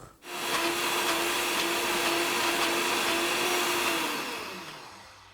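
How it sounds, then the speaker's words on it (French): A kitchen blender purees radish soup, its motor whirring loudly and steadily at close range for about four seconds before spinning down. "Je vais d'abord mixer et puis je verrai en fonction de la texture"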